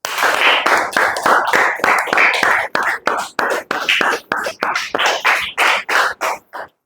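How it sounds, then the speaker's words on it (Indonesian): Children in a classroom clap in rhythmic bursts, a quick series of close, sharp claps grouped into regular patterns with short pauses, fading out at the end. "Tepuk tangan untuk teman kalian yang sudah berani menjawab pertanyaan Bapak."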